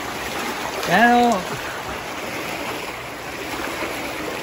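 Floodwater streams through a flooded neighborhood as a steady broadband rushing wash, with a voice speaking briefly near the start.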